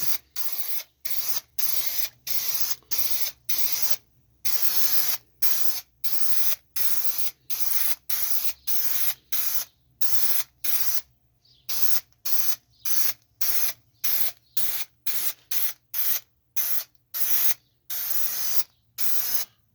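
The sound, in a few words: spraying a light coat of adhesive for carpet pad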